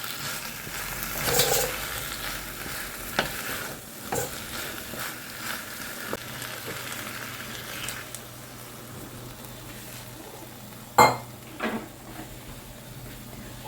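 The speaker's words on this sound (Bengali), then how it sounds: "মাছের মাথা তেল সব দিয়ে দিয়েছি, দিয়ে কষিয়ে জল দিয়ে চাপা দিয়ে দেবো।" A fish head fries in oil while being stir-fried, with a continuous close sizzle and intermittent scraping and stirring knocks, a few sharper clatters near the end, and no voices.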